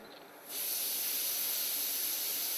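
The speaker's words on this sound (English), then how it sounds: "listen carefully for the next steam release valve whistle" A pressure cooker's steam release valve hisses, starting with a quieter lead-in and then bursting into a loud, steady, continuous hiss that holds to the end.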